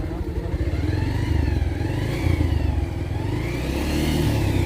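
Motorcycle engine revving while in neutral, a close, throbbing mid-pitched engine with repeated rises and falls in revs, and a voice talking faintly over it.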